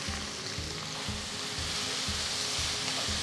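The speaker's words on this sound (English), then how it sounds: "Saute the onions till they're a nice golden brown color" Finely chopped onions sauté in hot oil with whole spices like cinnamon, clove, cardamom, bay leaf and cumin seeds, giving a steady close sizzle broken by a regular rhythm of low stirring scrapes, with no talk.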